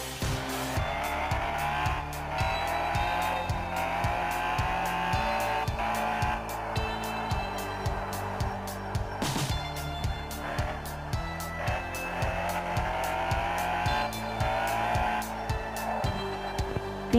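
BMW 7 Series in the driving game Driving School 2016, a steady engine drone with regular gear-shift steps and repeated tire squeals through curves, loud and continuous.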